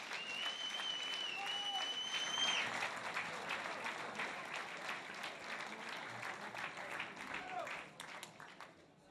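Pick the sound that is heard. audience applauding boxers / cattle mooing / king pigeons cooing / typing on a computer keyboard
audience applauding boxers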